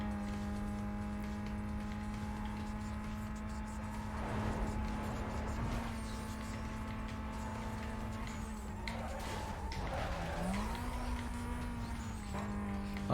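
A Toyota Supra race car engine in Need for Speed Most Wanted (2005) drones at a steady high pitch, shifting briefly near the end, with faint tire noise and game sounds under it; no one speaks.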